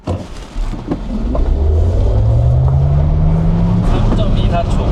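A Maserati GranCabrio Folgore electric convertible accelerates hard toward 100 km/h, its rising electric motor whine sweeping upward steadily over a loud rush of wind and road noise, heard from inside the car.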